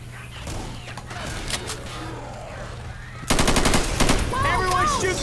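Gunfire rings out in a video game as players shoot at a tank: scattered shots at first, then a loud, dense burst of rapid automatic fire that continues to the end.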